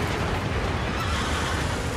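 A horse in the game Shadow of the Colossus whinnies loudly and close, a full neigh filling the short moment, with hoof clatter mixed in.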